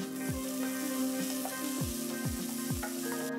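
Chopped small onion and garlic sauté in hot oil in a pan for a masala dosa filling, giving a steady bright sizzle with a few soft stirring knocks and scrapes, close and continuous, no voices.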